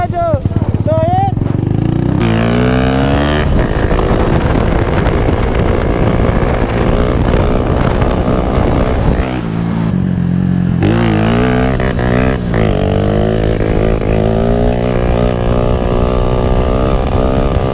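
A motorcycle engine revs and whines loudly and continuously as the wheel slips on slick salt-flat ground, pitch rising and dropping as the throttle changes, with a voice speaking over it.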